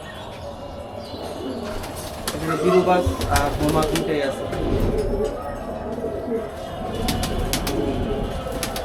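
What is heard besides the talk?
pigeons cooing and flapping on a rooftop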